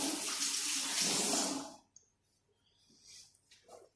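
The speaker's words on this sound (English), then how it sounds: "Just give it a quick rinse under the water." Tap water runs and splashes steadily for about a second and a half, then cuts off, leaving faint clinks and handling sounds.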